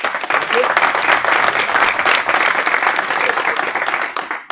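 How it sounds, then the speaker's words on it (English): Audience applause at a tech talk session on BizTalk Server to Azure migration, welcoming the next speaker; dense, steady clapping from a sizable crowd fills the whole stretch, loud and continuous before tapering slightly at the end. "Sandro Pereira, please, round of applause."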